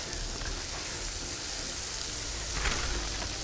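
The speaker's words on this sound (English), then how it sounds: "Listen to that sizzle." Smash burgers frying in bacon grease on a flat-top griddle give a steady, close hiss and crackle of sizzling that lasts throughout and swells briefly near the end, with no talking.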